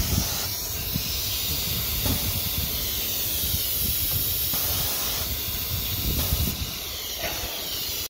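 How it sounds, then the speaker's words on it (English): Mist cooling spray on a CNC oscillating knife cutting machine, a steady loud hiss of air and mist running continuously up close, cutting off abruptly at the end. "Mist cooling, it is for the tool sensor."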